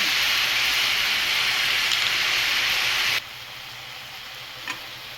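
Curry leaves and cumin seeds sizzle loudly in hot oil for a green chilli and tomato chutney, a dense steady crackle that abruptly falls to a much quieter hiss partway through, with one small pop near the end.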